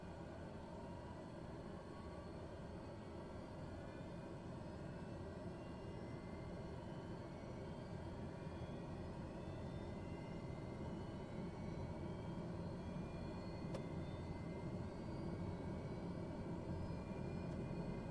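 Twin turboprop engines of an OV-10 Bronco idle steadily at flight idle in Microsoft Flight Simulator 2020, a constant droning hum with faint rising whine tones throughout and no talk.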